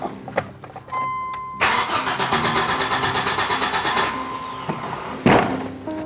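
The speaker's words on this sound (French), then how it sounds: "c'est parti pour le démarrage" A restored car that has not run for six years cranks over with a rapid, rhythmic churning of the starter for a few seconds, loud and close, after some clicks and mechanical handling, then drops off and cranks briefly again, without catching.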